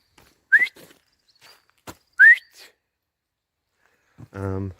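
Two short rising whistles sound close by, separated by quiet, followed by a brief burst of speech at the end.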